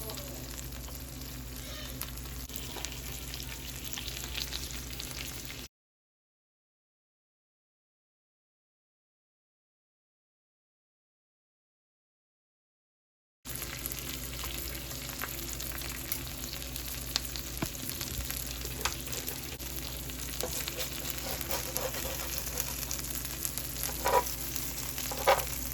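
Birria broth sizzles and bubbles steadily in a hot pan, a constant close frying hiss that cuts out completely partway through before resuming at the same level.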